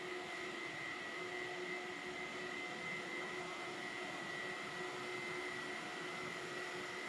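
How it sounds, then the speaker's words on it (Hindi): HDPE water pipe extrusion machine with two vacuum baths and two spray cooling baths running on pure raw material, giving a steady, loud industrial hum and whoosh of pumps and spraying water with constant tones throughout, no voices. "दो वैक्यूम बाथ और दो स्प्रे बाथ लगी हुई हैं इस मशीन में"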